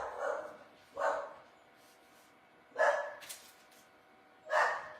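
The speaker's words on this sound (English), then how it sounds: "she is barking probably because a leaf fell off of a tree or something in the front yard" A dog barks at something in the front yard, four sharp barks spaced about a second or more apart, moderately loud and somewhat distant indoors, with no talking.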